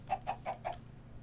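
Chicken clucking in the Minecraft video game: four short, evenly spaced clucks in quick succession, moderately quiet over a faint background hum, with no talking.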